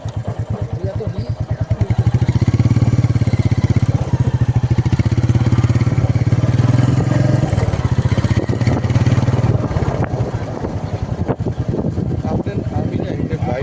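A motorcycle engine idles with a steady, close, pulsing throb that swells louder for several seconds and then settles back, with people talking nearby.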